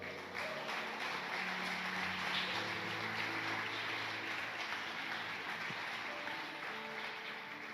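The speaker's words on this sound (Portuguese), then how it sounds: "Você pode aplaudir ao Senhor?" A church congregation applauds, a faint, distant, steady wash of many hands clapping with no talk on top.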